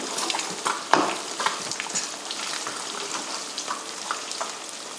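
Eggs with garlic fry in a pan while being pushed around, with a dense sizzle broken by scraping strokes and a sharp knock near the one-second mark, close by.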